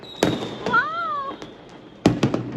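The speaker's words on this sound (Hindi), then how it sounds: "पटाखे फुटते हैं बहुत मजा आता है" Diwali firecrackers going off outdoors: two loud sharp bursts, each followed by quick crackling pops, with a rising and falling whistle in between.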